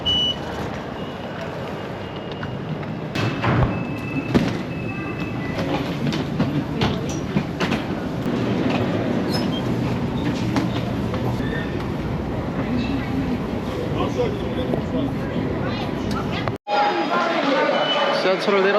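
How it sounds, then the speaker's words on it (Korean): A subway train in Qingdao runs with a steady loud rumble and rattling clatter of the carriage, with people speaking over it throughout; the sound cuts briefly near the end. "지하철을 내렸습니다."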